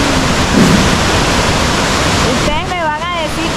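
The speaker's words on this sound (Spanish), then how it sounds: "yo necesito que ustedes tengan una mejor vista de esta cascada" Waterfall in Concepción, Colombia, a loud, broad, continuous roar of falling water close by, with a voice briefly exclaiming over it near the end.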